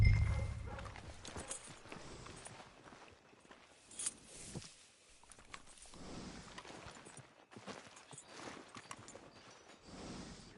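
Steady horse hooves clip-clopping at a walking pace in the video game Red Dead Redemption 2, close by, with a faint background ambience and occasional soft rustles.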